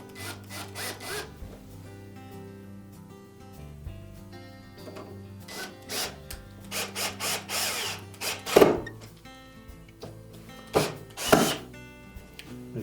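Screws are driven into a Frigidaire dryer door hinge with a power driver, giving several short bursts of whirring and grinding with a few sharper clunks between them, close and moderately loud.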